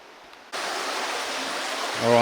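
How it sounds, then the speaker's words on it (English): Water rushes steadily in a stream, a broad hissing flow that starts suddenly, with a voice beginning to speak at the end, in Phou Phasouk National Park, Laos. "as you can see with this water flowing"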